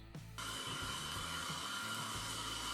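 After a brief click, a Roborock Q7 Max robot vacuum runs with a steady whooshing motor hum and high whine, holding at an even, moderate level nearby.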